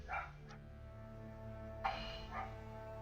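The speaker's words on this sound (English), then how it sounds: "What is she barking about?" A dog barks somewhere off-mic during a 3D-sculpting stream, a few short muffled yips spaced apart over a low steady hum and faint background music.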